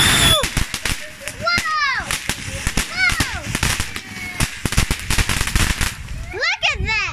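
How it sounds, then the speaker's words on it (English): Christmas Eve fireworks crackle and pop in rapid bursts with whistling streaks rising, while excited voices talk and shout close by. "Another firework coming out."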